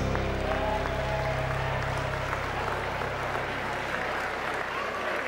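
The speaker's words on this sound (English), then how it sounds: "let's give Michelle and her father a round of applause" Guests at a wedding reception applaud after the father-daughter moment. A dense, steady wash of clapping carries on for several seconds at moderate volume with some crowd murmur and faint voices mixed in.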